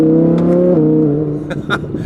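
An Audi R8 engine drones loudly and steadily at close range, its pitch dropping slightly, with a few faint clicks near the end.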